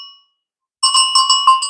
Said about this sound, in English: this is a cowbell, and it's from Switzerland